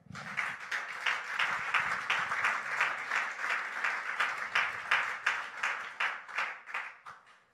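Congregation applauding at a church service, a dense steady burst of clapping from many hands that keeps going without a break before thinning out near the end.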